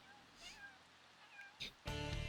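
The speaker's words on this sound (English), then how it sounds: "Fierce, fierce little meows." Cat meows from The Sims 3 game come as a few thin, high little mewls close by, followed by a louder burst of game sound at the end.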